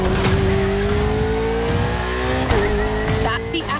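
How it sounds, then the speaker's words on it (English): A Ferrari 488 in The Crew racing game, its engine revving loudly and steadily close up with a rising tone, dipping and climbing again as the car shifts, under a continuous road roar with some speech over it. "Ferrari 488."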